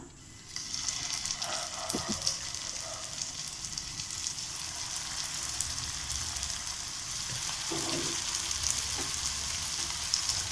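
Stuffed wheat chapathi laid into hot oil in a pan, frying with a continuous soft sizzle and crackle, a couple of faint clinks early and late, no talking.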